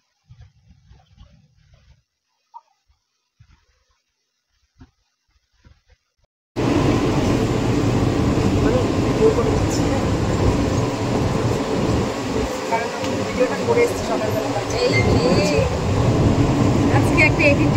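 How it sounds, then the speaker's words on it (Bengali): A metro train at a station, near silence with faint talk and then a sudden loud roaring rumble of the train passing close, steady and heavy until the end. "চলে গেল ট্রেনটা, পরের ট্রেনে হয়তো আসবে।"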